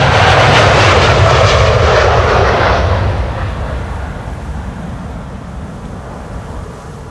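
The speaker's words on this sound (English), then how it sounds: "There's the 777 to Willemstad, Curaçao, 777-300" A Boeing 777-300 departing Amsterdam Schiphol on a KLM flight to Curaçao gives a loud, close jet-engine roar that peaks early and then fades steadily as the aircraft climbs away.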